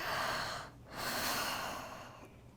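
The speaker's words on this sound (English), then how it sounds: "Take a deep breath. I'm going to do a deep breath too." Two slow, deep breaths, a long airy inhale and exhale heard close and alone, during a calm school mindfulness exercise.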